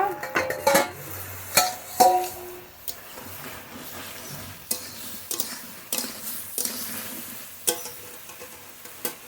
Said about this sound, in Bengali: এবার একটু ঢেকে দেবো ঢাকনা খুলে নেব